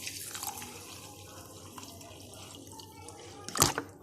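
Water trickles and splashes as it is poured into a clay pot to soak tukhm malanga and gond katira, a soft steady flow with a louder splash near the end.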